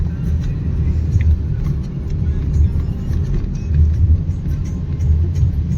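A car drives slowly along a ghat road, heard from inside as a steady low engine and road rumble with no talk over it.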